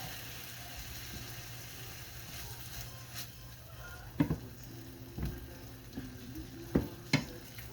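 Food being stirred around in a hot frying pan, a steady low sizzle with a few sharper scrapes and clinks of the utensil against the pan near the end, no voices.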